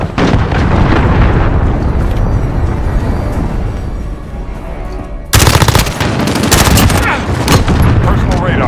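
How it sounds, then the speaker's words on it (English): Heavy video game combat with continuous loud gunfire and rumbling explosions, then a sudden sharp blast from a cruise missile strike followed by more dense firing and crackling bursts. "cruise missile incoming."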